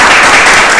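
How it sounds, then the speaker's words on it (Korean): An audience applauding vigorously, with some standing, dense and loud, a continuous wash of many hands clapping close by in a lecture hall, with no talk over it. "일어서서 격렬히 박수해 주시는 저분 너무 마음이 듭니다"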